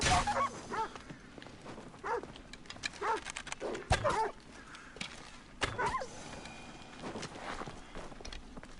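Dogs in the video game Assassin's Creed Odyssey bark and whimper in short bursts, mixed with scuffling footsteps and running, fairly close and lively throughout.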